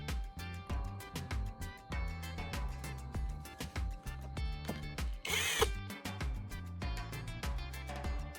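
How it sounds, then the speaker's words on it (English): A power drill spins a carbon rod in short repeated bursts, whirring loudly with brief stops between, and a harsher grinding rasp near the middle as sandpaper presses against the spinning tip. "I'm securing it into a drill chuck"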